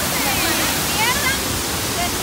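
Steady, dense roar of rushing water at the Panaluya waterfalls in Río Hondo, Zacapa, Guatemala, loud and continuous with no breaks, heard close up.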